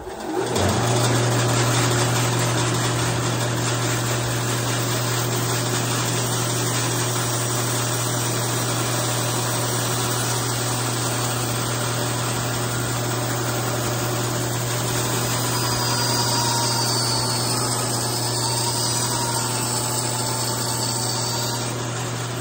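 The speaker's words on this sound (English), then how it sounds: "Okay, I got to sand the center flat." A power sander flattens the center of an Osage orange self bow, making a loud, steady motor drone with a low hum that runs unbroken throughout, with no talking.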